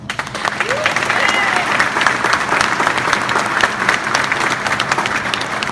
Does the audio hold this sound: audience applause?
yes